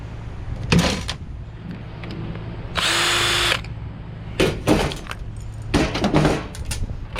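A power drill backs a screw out of a tankless water heater being stripped for scrap, one short whirring burst up close, surrounded by clanks and rattles of parts being handled.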